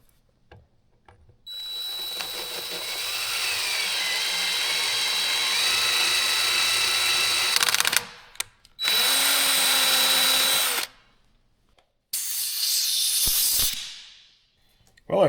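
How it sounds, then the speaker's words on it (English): An oversized tap driven by a power tool whines through a drilled hole in a wheel cylinder, running in long sustained bursts with brief pauses between them, loud and close. "I'm going to run this bigger oversized tap down through here"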